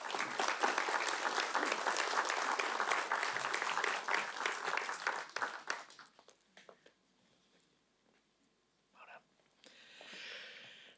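An audience at an alumni achievers awards evening applauds to welcome an award recipient, a dense, sustained round of clapping that fades out after about six seconds, leaving faint room noise and a brief later murmur.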